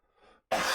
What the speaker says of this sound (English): Still coughing up.